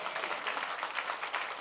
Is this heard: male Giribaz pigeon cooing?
no